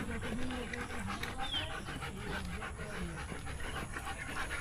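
A dog pants steadily outdoors with several stray dogs close by, the quick breathing running continuously through a noisy street background with faint voices.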